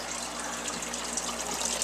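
Water pouring steadily into an aquarium tank during a water change, a continuous close gushing splash with no pauses and no voices.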